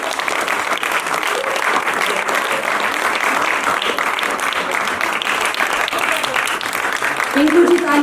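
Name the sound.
audience applause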